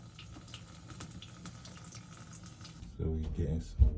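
Water runs through a drain pipe clogged with roots, trees and mud, a steady rushing flow that swells louder near the end under a voice.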